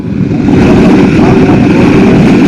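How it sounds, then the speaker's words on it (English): Several motocross bikes drone and rev together at high volume on the start line of a national motocross championship race, a dense, continuous roar holding steady throughout. "as the revs rise the gate will drop"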